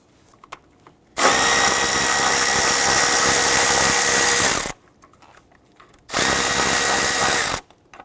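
A power tool, likely an impact driver or drill, loosens 10mm bracket bolts on a 2005-2021 Nissan Frontier 4.0L V6, running in two loud sustained bursts of about three and a half and one and a half seconds with quiet gaps between.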